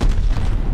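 A grenade detonates in the Call of Duty Vanguard video game as a brief, heavy low boom filling the moment.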